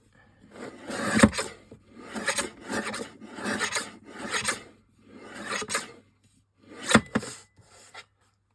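A hand trimmer shaves a small model square in about eight separate rasping strokes with brief pauses between them, close and dry.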